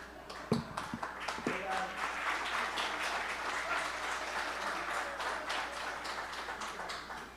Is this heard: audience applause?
yes